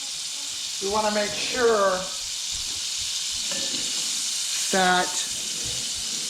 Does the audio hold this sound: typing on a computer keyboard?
no